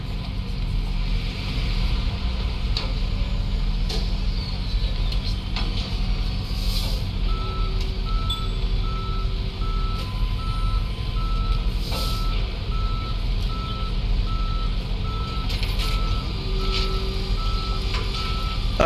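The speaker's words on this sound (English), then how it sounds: "Okay, there is our tow truck." A tow truck in the Police Simulator video game reverses with a steady, repeating electronic beep over a constant engine idle and faint traffic, continuing without talk throughout.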